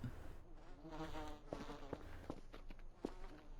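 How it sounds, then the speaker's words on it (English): A beehive in the game Voices of the Void gives off a faint, close insect buzz with wavering hum and a few soft ticks and taps. "We've still got this beehive too."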